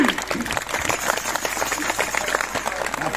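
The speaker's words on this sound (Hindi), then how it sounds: "सम्मान में हम चाहेंगे कि आप लोग जोरदार ताली बजा" An audience claps loudly to honour a guest at a Janmashtami biraha music event, the dense applause continuous and close throughout, with voices mixed in.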